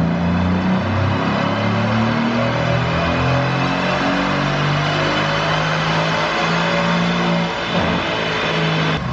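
A Mercedes-AMG C63S being tuned on a dynamometer, its engine held at a loud, steady high rev with rising and falling harmonic tones throughout, close and continuous with no speech.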